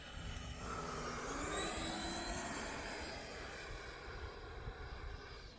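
E-flite Viper 90mm electric ducted-fan RC jet flying at about half throttle at a model flying club, a steady whooshing fan whine that swells as it passes nearby and then slowly fades, with no talk.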